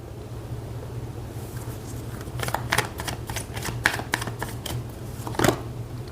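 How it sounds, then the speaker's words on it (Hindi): Tarot cards shuffled and drawn during a reading: soft papery riffles and flicks arrive in a cluster of quick bursts over a steady low hum, close and fairly clear, with no talking. "कार्ड्स निकालते हैं।"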